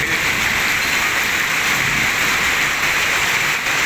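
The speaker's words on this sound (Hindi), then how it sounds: "इतनी शदीद बारिश यहाँ पे पहले कभी भी नहीं मैंने देखी" Heavy storm rain pours down steadily outside a house in Bahria Town, Rawalpindi, a dense continuous hiss with no pauses, loud and close throughout, with no voices.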